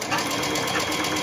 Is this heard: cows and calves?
no